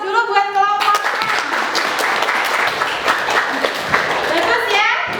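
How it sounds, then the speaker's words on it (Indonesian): A classroom group receives applause: a burst of hand clapping from students, dense and steady for several seconds, with children's voices mixed in and a brief voice before and after. "aplaus dulu buat kelompok"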